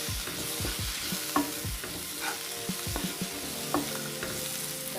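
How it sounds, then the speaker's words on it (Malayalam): Chopped tomato frying in a pan for a spicy coconut egg curry, stirred steadily with a spoon: a continuous close sizzle under repeated scraping, clattering strokes against the pan, with no talk. "തക്കാളി ഇട്ടിട്ട് നന്നായിട്ട് ഇളക്കുക"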